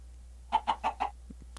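A Minecraft chicken gives four quick, clipped clucks in an even row, followed by two softer low clicks, clear and close against near silence with no talking.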